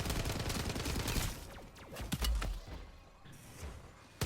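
Rapid assault rifle fire in MW3 Zombies, a loud, dense stream of shots that thins into scattered bursts and thuds before a final shot at the end.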